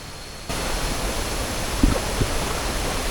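Waterfall beside the Bamboo Creek campsite in Thong Pha Phum, a steady broadband rush of falling water that starts abruptly after a brief quieter moment, with a couple of small knocks partway through.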